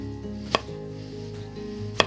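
Knife chopping small potatoes into rounds for fries, two crisp separate cuts on a board about a second and a half apart over a quiet humming background.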